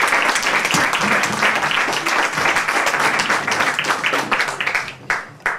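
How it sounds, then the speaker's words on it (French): An audience at a café music gathering applauds a clarinetist, with steady, dense clapping that carries on for several seconds before thinning out near the end. "Tu peux applaudir, hein?"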